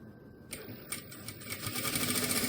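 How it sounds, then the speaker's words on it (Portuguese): A sewing machine stitching a seam on a small fabric car trash bag, running close by as a fast, steady mechanical whir that starts unevenly and then settles into a continuous rhythmic hum. "Agora, eu faço uma costura"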